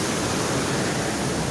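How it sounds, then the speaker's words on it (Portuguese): Steady, loud roar of falling water at close range from the third drop of a waterfall, a dense continuous rush with no voices. "da terceira queda da água"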